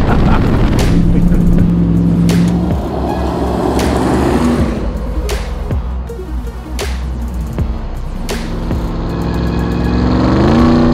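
A 2021 RAM 1500 TRX pickup truck driving off-road, its engine loud and close as it revs in rising and falling surges, with sharp thumps and knocks from the rough, rutted ground throughout.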